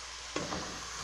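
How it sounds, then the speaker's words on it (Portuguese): Tomato fries in a pan with a steady broadband sizzle, broken by a brief stir or drop of food near the start and a small bump just after. "Só fritar um pouquinho."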